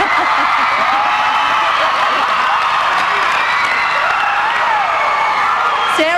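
Large live studio audience at a Big Brother Australia eviction night, a dense wall of cheering, whooping and shouting that stays loud and unbroken throughout, with a few shrill whistles rising above the roar.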